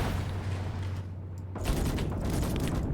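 Distant small-arms rifle fire in 7.62 and 5.56 calibres crackles in dense, continuous volleys in the Call to Arms war game, with a low vehicle rumble under the first half and a sharper burst of shots after.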